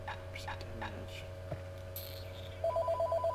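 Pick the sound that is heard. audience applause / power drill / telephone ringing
telephone ringing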